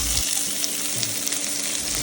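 A steady, hissing sizzle of onion frying in hot ghee with cloves and cardamom continues without pause, fairly close, with faint stirring and no talk.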